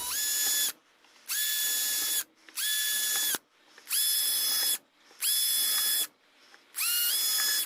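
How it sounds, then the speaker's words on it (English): A power drill whines in six bursts of roughly a second each, separated by short pauses, spinning up and boring through wood close by with no talking. "I'm just going to try to go right through this wood"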